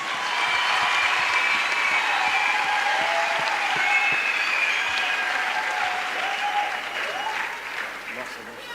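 A church congregation bursts into sustained applause, a dense wash of clapping mixed with cheering voices that holds steady, then eases off slightly near the end.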